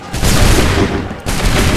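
A musket volley in Assassin's Creed 3 battle, a dense, loud roar of many shots fired together, breaking briefly before a second crashing wave of gunfire.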